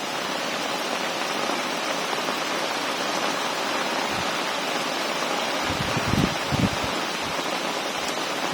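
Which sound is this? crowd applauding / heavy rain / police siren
heavy rain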